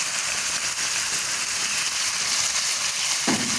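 Chicken fries with garlic ginger paste in a hot pan, a steady dense sizzle throughout with a brief louder burst near the end, close and without talk.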